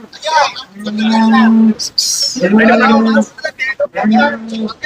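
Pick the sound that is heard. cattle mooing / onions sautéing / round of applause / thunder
cattle mooing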